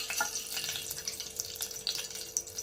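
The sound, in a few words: cinnamon and cloves sizzling in hot oil in a pan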